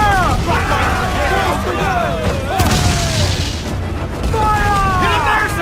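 Ship cannons fire in a naval battle in Assassin's Creed Black Flag, with heavy booms and blasts rolling over continuous loud action noise while voices shout over the din.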